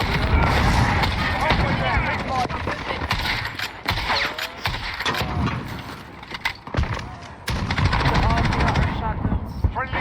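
Rapid automatic gunfire rattles in an online video game shooter, in loud sustained bursts with brief pauses, while someone talks over the shooting.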